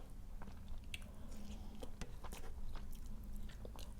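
Close, quiet chewing and small bites while steamed fish is eaten by hand alongside Isan dishes, soft irregular mouth clicks and smacks over a low steady background hum.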